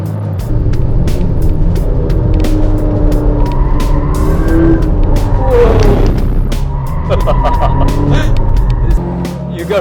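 A modified car on a fast lap at the BIC race track gives a loud, continuous engine roar at close range that rises and falls through gear changes, with tyre and wind noise and no talking.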